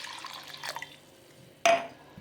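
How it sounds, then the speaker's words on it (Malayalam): Water from a large glass is poured into a container while a homemade face toner pack is prepared, giving one short, close splash near the end after quieter handling noise. "ഇനി ഇതിലേക്ക് വലിയ ഒരു ഗ്ലാസ്സിൽ 1 ഗ്ലാസ് വെള്ളം നമുക്കിതിൽ ഒഴിക്കാം."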